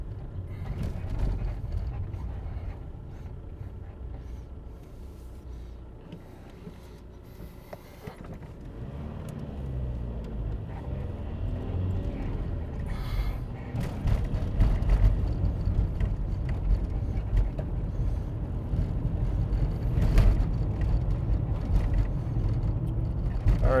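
Car cabin noise while driving city streets in Las Vegas, a steady low engine and road rumble that builds slightly louder toward the end, with passing traffic mixed in and no talking.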